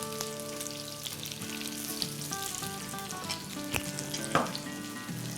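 Mutton chops frying in oil in a pan give a steady, close sizzle with a soft crackle throughout, plus one brief sharper pop near the end; no voices.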